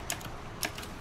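Two faint, sharp clicks of keys on a computer keyboard, spaced about half a second apart, in a quiet room.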